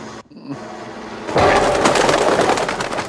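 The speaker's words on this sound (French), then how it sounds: "Pigeon." A pigeon coos briefly in a scene from the film Predator 2, then a loud, broad burst of noise takes over.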